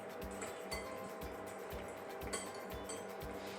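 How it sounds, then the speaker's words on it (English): A whisk moving melting dark chocolate around a bowl makes soft, irregular clinks and taps against the bowl, quiet and close, with faint scraping between strokes and no talk. "So I'm just going to use a whisk. Just move your chocolate around."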